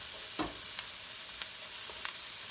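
Onion and garlic sautéing in a pan give off a faint, steady sizzle, with a few sharp utensil clicks and stirring taps at intervals.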